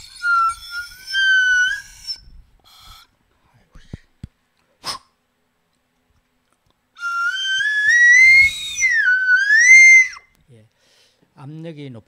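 Ocarina, a closed-pipe instrument, playing high notes reached by covering it with the palm to extend its range, giving bright, pure, sliding tones in two short phrases separated by quiet pauses and a few small clicks, close and alone.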